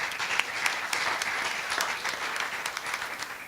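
An audience claps for a Greensboro firefighter being introduced, a full, even round of applause held steadily at close range with no voices over it.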